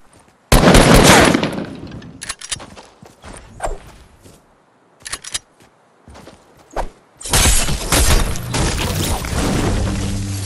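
Gunfire in a shooting video game comes in loud, close bursts, with a sustained barrage at the start and another near the end, and scattered single shots and footstep-like clatter in the quieter stretch between.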